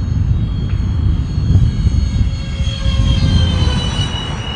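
A remote-controlled airplane flies downwind on a gusty day, its thin, steady motor whine riding over heavy, continuous wind rumble buffeting the microphone.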